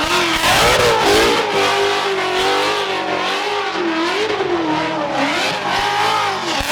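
A race car engine screams at very high revs, the pitch rising and falling continuously, loud and close with no talking, at a burnout yard event.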